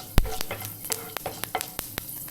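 Mustard seeds and fenugreek sizzle and pop in hot oil for a sardine pickle, sharp crackling bursts scattered irregularly over a soft steady hiss, close and fairly quiet, no talking.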